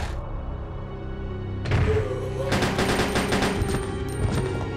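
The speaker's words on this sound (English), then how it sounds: "this is where you'll have to gun down a couple more zombies" M93R burst fire at zombies in Resident Evil Code Veronica X, loud rapid shots beginning partway through over background game ambience and music.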